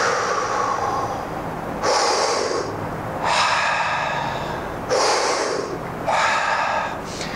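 Forceful breaths during a diaphragm breathing exercise, air squeezed and dumped in about five strong rhythmic rushes, each lasting a second or so, close and loud with no talk.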